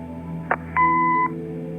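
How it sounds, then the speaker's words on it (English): Answering machine beep in the video game Kathy Rain: a short electronic tone followed by a steady half-second beep, clean and close over a low background hum. "Leave a message after the beep."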